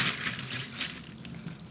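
Water from soaked green mung beans is poured off through a strainer, a brief close splashing trickle that fades.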